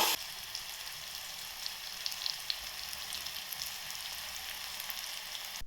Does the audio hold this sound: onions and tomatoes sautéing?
yes